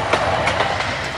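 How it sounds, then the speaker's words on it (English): A repair train passes on the tracks near the Mexican border, a loud close rumble with rhythmic clickety-clack wheel beats, heard alone over about a second. "A passing repair train let us jump on, saving valuable hours."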